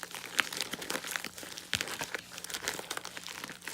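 A mailed eBay package holding a VHS tape is torn open and crinkled by hand, a close run of irregular crackling, crunching and rustling plastic and paper sounds with no voices.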